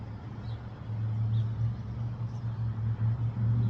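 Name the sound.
passing car traffic outdoors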